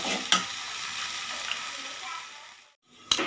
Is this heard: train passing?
no